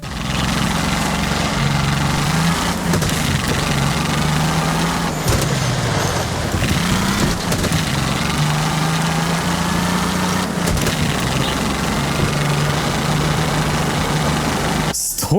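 A vehicle engine in Mafia: The Old Country runs steadily and loudly as it drives over rough, bumpy ground, its droning pitch rising and dipping with throttle changes and a few thuds from the suspension.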